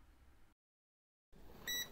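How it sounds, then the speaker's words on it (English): A short electronic button beep from a Multicomp Pro MP720856 handheld oscilloscope in multimeter mode, a clear tonal chirp arriving after a moment of silence, close and fairly quiet. "In multimeter mode, some buttons beep when you press them, but not all."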